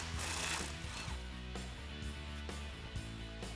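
A 10mm socket ratchet clicks in short rhythmic bursts while loosening a brake line bracket on a Jeep Wrangler JK during a lift kit install, with nearby metallic mechanism noise.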